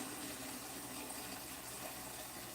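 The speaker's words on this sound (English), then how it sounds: "The noise you may hear in the background is me filling up my coffee pot." Tap water runs steadily into a coffee pot in a kitchen, a continuous soft gushing fill that stays faint in the background.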